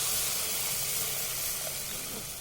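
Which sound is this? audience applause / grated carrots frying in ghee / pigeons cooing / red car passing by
grated carrots frying in ghee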